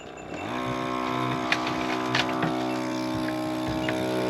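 A goat milker's vacuum pump starts up and runs steadily with a droning hum and rising whine, loud and close, with a few faint clicks over it.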